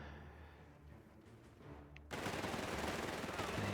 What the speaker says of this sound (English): use our newly brought out MG to suppress those guys and take them out of the fight